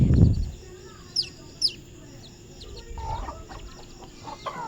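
Chickens cluck near caged ducklings, giving a few soft, short calls over steady farmyard background noise, with a brief low thump at the start.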